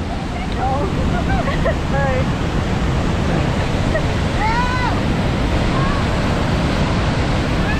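Water thunders down at the base of Niagara Falls by the Cave of the Winds, a loud, close, unbroken roar of spray and surf filling all eight seconds, with faint voices and chirps barely poking through.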